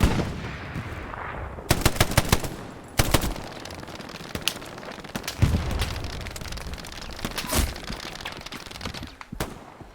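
Machine gun and rifle fire in the World War II shooter game Hell Let Loose, loud bursts of rapid shots and sharp cracks at varying distances over a continuous battlefield rumble.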